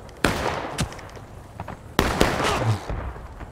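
Musket volley fire from a line infantry company in the Civil War game War of Rights: two sharp, loud massed volleys, about two seconds apart, each a ragged burst of overlapping shots trailing into rumbling echo.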